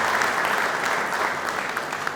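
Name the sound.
applause for the neonatology achievement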